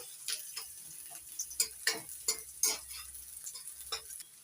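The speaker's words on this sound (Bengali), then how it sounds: "পেঁয়াজটা একটু ভেজে নিয়ে এবার দিচ্ছি রসুন কুচি আদা কুচি" Chopped onion, garlic and ginger frying in a pan for a vegetable pizza sauce, making a soft sizzle with frequent light ticks and scrapes of stirring close by, and no voices.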